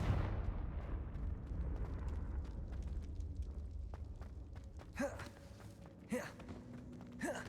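A Confringo spell explosion in the video game Hogwarts Legacy, a rumbling blast that fades, followed by a couple of sharp magical bursts near the end.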